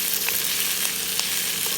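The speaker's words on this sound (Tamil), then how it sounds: "தக்காளி பழத்தை போட்டுட்டு நல்லா வதக்கிட்டு" Tomatoes sizzle and fry in a pan of oil for a mackerel curry, a steady close hiss with small crackles and no talking.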